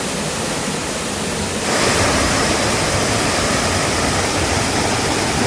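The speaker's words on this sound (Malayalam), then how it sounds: "അമ്പൂരി മലയെന്ന് വരുന്ന വെള്ളമാണ് കേട്ടോ" River water from Amboori hill rushes steadily over rocks at Kumbichal Kadavu, a broad, continuous roar close by that grows louder a little way in and then holds constant, with no voices.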